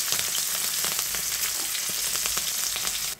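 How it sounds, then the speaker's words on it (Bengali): Chopped green chillies fry in hot oil in a pan where hilsa was just fried, making a steady, dense, close sizzle throughout with no talking. "এটা আমি তেলের উপর ভেজে নিচ্ছি"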